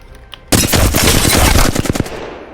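After a brief quiet moment, a Flatline assault rifle in Apex Legends fires one loud, sustained automatic burst of rapid shots lasting about a second and a half, then cuts off sharply.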